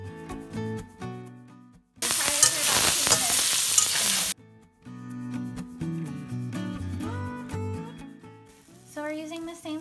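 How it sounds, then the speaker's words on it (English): Mushrooms hit a tablespoon of oil in a pot and set off a loud, dense sizzle that lasts about two seconds over steady background music, then cuts away. "and we're gonna fry the mushrooms"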